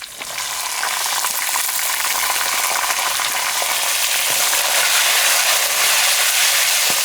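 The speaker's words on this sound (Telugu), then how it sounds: "వెల్లుల్లి జీలకర్ర కూడా వేసుకుని 2-3 నిమిషాలు బాగా వేయించుకుందామండి" Curry leaves, green chillies, garlic, cumin and spices fry in hot oil for a ridge gourd chutney, giving a loud, steady, close hiss and crackle that holds without a break.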